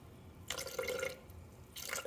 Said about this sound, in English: I'm just adding an extra water here.